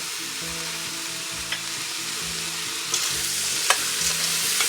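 Tomato sauce ingredients stir-fry in a pan with salt, pepper and sugar, giving a steady close sizzle and hiss with a few sharp clinks of a utensil against the pan.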